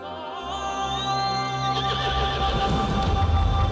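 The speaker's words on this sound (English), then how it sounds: "He leaps onto the horse and it rears up." A horse rears up and gives a loud, wavering neigh that rises then trails off, with a few hoof clops and other horses nearby, close and clear with no talking.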